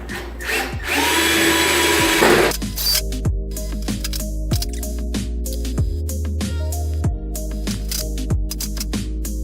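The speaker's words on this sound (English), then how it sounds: "I found the best way to manage this issue is to pre-drill a couple of holes" A power drill pre-drills holes for mounting LED shop light fixtures, a loud whine that revs up and down in short bursts, with clicks and clunks of handling between runs and no talk.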